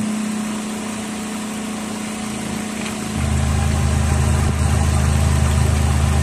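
The engine of a Mazda Lantis car, running after automatic transmission fluid was added, idles with a steady hum that grows louder and deeper partway through, close and continuous with no talking.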